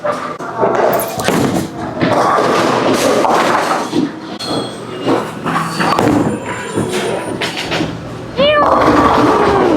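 A urethane bowling ball rolls down a lane oiled with a house shot in a busy bowling alley, with rumbling thuds and clatter mixed into loud, continuous talk and ambient crowd noise.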